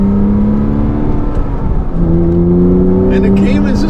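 A Porsche Cayman S engine drones steadily from inside the cabin while driving, its pitch stepping up near the midpoint as it pulls harder, loud and continuous with a brief murmur of voices late on.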